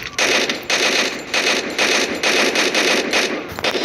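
Rapid gunfire bursts from the mobile battle royale game Free Fire, loud and continuous with brief gaps, crackling shots layered densely over nearly four seconds.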